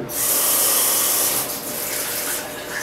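Fresh water pouring from a tap into a container for making Korean makgeolli rice wine, a close, loud, steady hissing splash that eases slightly partway through.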